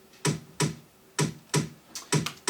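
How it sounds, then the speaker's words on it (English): Layered percussion and tom samples in an electronic production: sharp, bright hits at an uneven groove, seven strikes with short decays, clean and close with no voices. "Then I think after like 15 seconds there's some percussion coming in."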